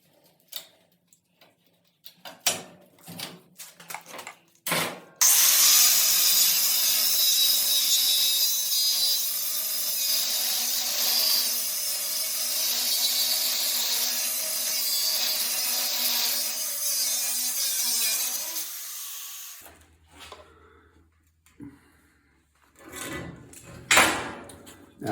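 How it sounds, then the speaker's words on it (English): Power tool grinding on a metal disc during a repair, a loud steady whir running for about fifteen seconds after scattered knocks and clatter, followed by more handling noises. "I'm just going to go ahead and use a power tool"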